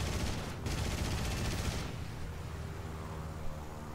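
Aircraft machine guns fire in War Thunder from an I-301 fighter, a dense rapid burst of gunfire that stops after about two seconds, leaving engine drone and faint rumbling in the background.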